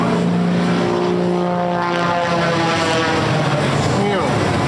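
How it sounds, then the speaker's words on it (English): Aerobatic biplane Prometheus performing at a beach air show, its propeller engine droning loud and steady with a sweeping pitch change as it passes, overlapping an announcer's voice over the loudspeakers. "He calls this biplane Prometheus."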